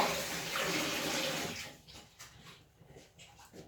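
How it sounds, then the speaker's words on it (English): Running tap water rinses fresh produce under a faucet during juice preparation, a steady hiss for about a second and a half, then thinner, broken splashing and clatter as the flow stops or the item is handled. "We just give it a quick wash."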